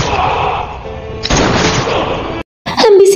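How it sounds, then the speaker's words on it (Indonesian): Gunfire rings out in an Indian action film scene, with a loud burst of shots over a dense soundtrack, then a brief silence and a sudden, sharp return of sound. "Seketika petugas CBI menembak mati Rudra alias Martin di tempat."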